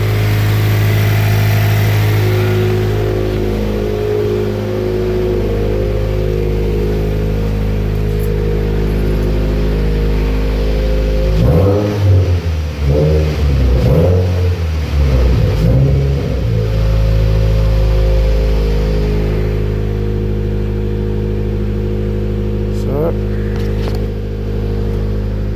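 A Subaru WRX with a catless 3-inch exhaust, header and lightweight pulleys idles with a deep, loud rumble, then revs in a quick cluster of throttle blips before settling back to a steady idle.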